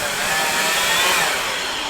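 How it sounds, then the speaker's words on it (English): A leaf blower runs at full power as it blasts loose dirt and dust during a bathroom demolition, a loud steady roaring whoosh held without a break for about two seconds. "The leaf blower makes it really dusty."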